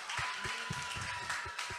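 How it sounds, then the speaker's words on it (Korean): A church congregation claps in praise to Jesus Christ during a Korean worship service. The applause is soft and fairly distant, with some heavier irregular thumps mixed in. "우리 그 예수 그리스도 앞에 우리 박수를 한번 영광을 돌려봅시다."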